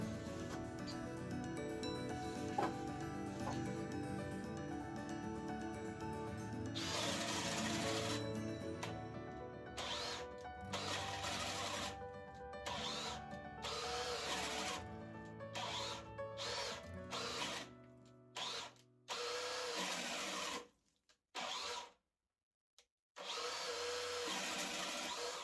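A Parkside Performance PPBSA 20 cordless drill, rated at 150 Nm, runs on second speed with a freshly charged battery. It gives a loud, close motor whine that holds steady at first, then breaks into repeated short bursts with silent gaps between them.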